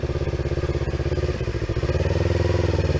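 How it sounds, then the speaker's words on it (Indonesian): A Kawasaki CBR motorcycle engine runs close by with a steady, throbbing pulse, rising slightly in speed and loudness toward the end. "itu ada motor Kawasaki CBR"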